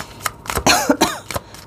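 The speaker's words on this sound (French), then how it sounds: "Toujours cette toux qui ne me lâche plus." An adult with a persistent cough lets out a short cluster of four or five harsh, throaty coughs in quick succession, close to the microphone.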